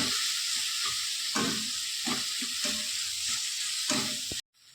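Spices with red chilli powder frying in a pan, with a constant loud sizzle and repeated scraping strokes of a spatula, ending abruptly in silence.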